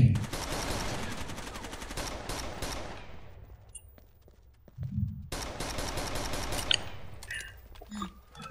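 Handgun gunfire in the video game Rainbow Six: Vegas 2, in two bursts of rapid, sharp shots with a short lull between them.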